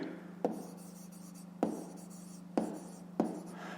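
Pen scratching across paper while solving a fifth-grade maths exercise: steady close scraping strokes punctuated by four sharp taps, over a low constant hum, with no voices.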